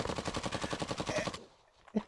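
An RPK rifle fires a rapid full-auto burst of about fifteen evenly spaced shots, loud and fairly close, then stops abruptly. A short quiet tail follows with a single faint knock.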